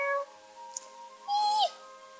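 A Puppy Surprise toy puppy gives a short electronic squeak-like cry, a brief chirp then a longer bending tone, close and clear with no talking.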